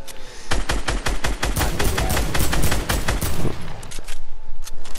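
Rapid automatic gunfire from the Fortnite video game, dense bursts of loud shots rattling almost continuously and close, with a brief thinning near the end.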